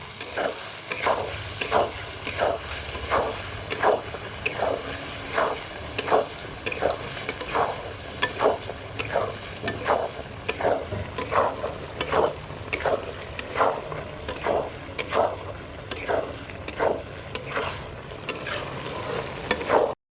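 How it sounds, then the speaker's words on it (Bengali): Spices with salt sizzle in a pan while a spatula scrapes and stirs in a steady rhythm, close and continuous, with no talking. "এবার এটা ভালো করে কষিয়ে নেব"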